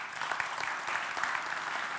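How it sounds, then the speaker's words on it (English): Audience at an automotive forum applauds the event's sponsors, a brisk patter of many hands clapping in a hall at moderate level, steady throughout. "A big applause to our sponsors."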